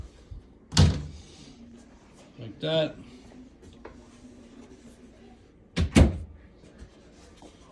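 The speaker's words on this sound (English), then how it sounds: "And then of course these doors close" Doors of a newly assembled kitchen pantry cabinet being swung shut, giving two sharp wooden thumps about five seconds apart, with a softer knock between them and someone speaking briefly.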